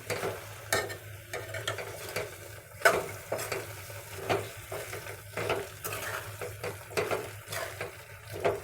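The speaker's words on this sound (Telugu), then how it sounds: "క్యాప్సికమ్ వేసాం కదా ఒకసారి కలుపుకుందాము" Capsicum stirred and frying in a kadai for kadai paneer, with steady sizzling and a spatula scraping and clinking against the metal pan in a repeated rhythm, close and fairly quiet.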